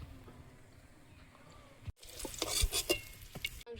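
Whole spices, bay leaf, cumin seeds and dried chilli, hit hot oil in a pan and break into a loud, steady sizzle with crackling pops, after a quieter stretch of faint kitchen stirring.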